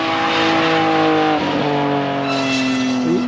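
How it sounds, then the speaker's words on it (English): BMW M3 driving fast past a trackside spot, a loud sustained engine note holding high revs with a brief dip and shift as it passes close by, no talking. "Just flying in that M3."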